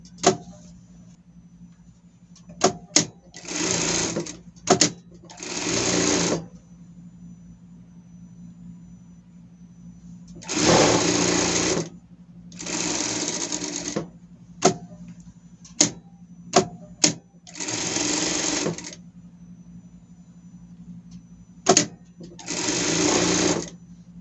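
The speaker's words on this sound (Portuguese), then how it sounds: "Eu vou passar uma costura por tudo, só deixar aqui um pedaço pra gente virar a nossa peça" A sewing machine stitches around a fabric pet bandana in loud, separate bursts of one to two seconds, with short clicks and quiet pauses between runs.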